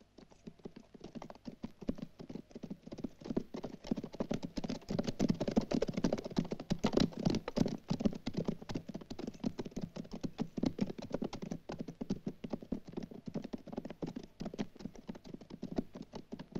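Horse hooves clip-clop steadily on hard ground in a western setting near a canyon, a dense, continuous patter of several animals walking close by, with no voices.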